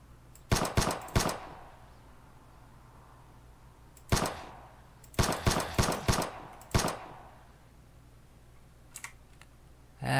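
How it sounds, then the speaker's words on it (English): Gunfire in the video game Animallica, sharp rapid bursts of shots in clusters separated by quiet pauses, close and crisp, with a couple of fainter cracks near the end. "That was a lot of bullets."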